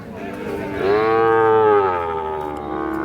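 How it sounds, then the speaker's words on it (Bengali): A four-month-old Sahiwal bull calf at a cattle market gives one loud, drawn-out moo that swells and then trails off, close by over a low crowd murmur. "4 মাস বয়সে শাহিওয়াল ষাঁড় বাচ্চা"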